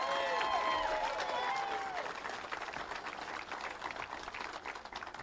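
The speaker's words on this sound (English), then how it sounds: "Please give my wife, Jane Mrvan, a round of applause." Crowd applause at a steelworkers' union bus tour event in Chesterton, Indiana, steady and moderately loud over about five seconds, thinning slightly toward the end, with voices mixed in.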